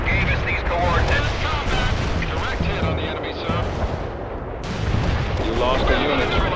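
Incoming artillery shells burst in a World in Conflict battle, a dense continuous rumble of explosions and gunfire layered over radio chatter, with a brief lull before the barrage swells again.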